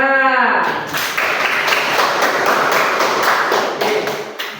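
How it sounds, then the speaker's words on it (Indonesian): A brief chime rings out, then a classroom full of people bursts into applause. Hand claps go on steadily for several seconds before tapering off. "Tepuk tangan."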